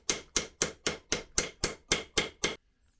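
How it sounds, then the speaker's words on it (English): Ten sharp, evenly spaced hammer blows ring out on an anvil while a metal repair piece for a Mari Lwyd horse skull is bashed into shape, loud and close, then silence. "Let's bash out another one on the anvil."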